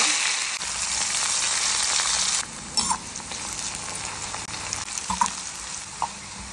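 Frying in coconut oil in a pan gives a bright, steady sizzle up close, louder at first, then calmer, with a few soft stirring knocks and scrapes.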